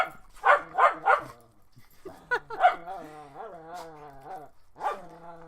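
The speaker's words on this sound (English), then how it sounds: "Yeah, that's a dog. That's a dog that's crazy about it." An excited dog barks in a quick burst of three, then lets out yips and a long, wavering whine before one more bark, all close and loud with no talking over it.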